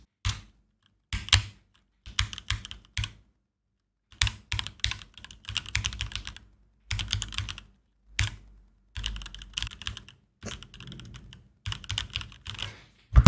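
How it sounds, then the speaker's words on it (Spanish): Clattering bursts of computer keyboard typing, close and crisp, coming in irregular runs of rapid keystrokes separated by short pauses, with no talking. "Basta de tecleo"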